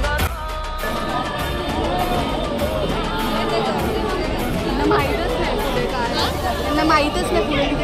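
Dense crowd of devotees at a Ganpati pandal in Mumbai during the festival, with steady overlapping chatter and babble close around, occasional louder voices and faint cheering rising through the hubbub.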